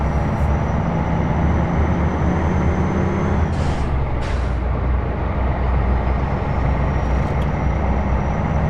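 Heavy truck engine revving through the gears with a driver shifting, a steady loud low rumble throughout and a brief hissing burst midway, like an air brake release.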